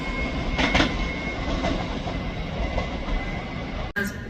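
A Class 334 electric train, unit 334039 at the rear, rolls through Edinburgh Haymarket station with a steady rumble and faint wheel clatter, a sharp brief clack near the end and an electric whine across the platform.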